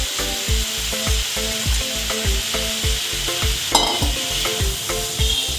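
Potato pieces fry in spiced oil while a spatula stirs them in quick, regular scraping strokes against the pan, a close, busy sizzle with rhythmic knocks and no voices.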